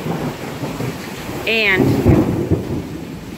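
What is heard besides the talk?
thunder during rain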